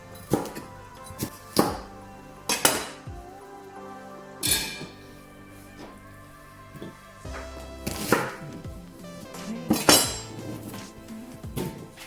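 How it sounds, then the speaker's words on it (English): Knife chopping vegetable scraps into smaller pieces on a board, irregular sharp chops in small clusters with pauses between, close and clear. "So just simply chop them into smaller pieces."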